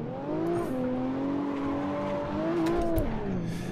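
A BMW 1M Stage 3 pulls hard in first gear on a hillclimb track, its engine note rising, dipping at shifts and climbing again, loud and continuous from inside the car.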